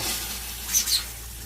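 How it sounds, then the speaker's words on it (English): A steady, close rush of water hisses into an RV toilet bowl, constant and fairly loud with no one speaking. "Water coming through the toilet"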